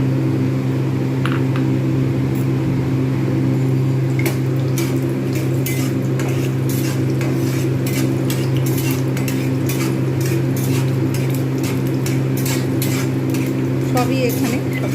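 Peanuts frying in mustard oil in a frying pan for a taro-leaf dish: a steady background hum with repeated sharp metallic clinks of a utensil stirring against the pan, close by, with a voice speaking intermittently.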